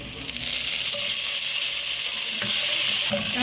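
Onion, garlic and tomato fry in a hot pan for an ampalaya omelette, giving a continuous loud sizzle with a few scraping stirs and no talking.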